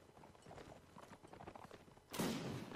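Horses clip-clop in Mount & Blade: Napoleonic Wars, a steady patter of hooves across a line-battle field, then a loud burst of gunfire near the end.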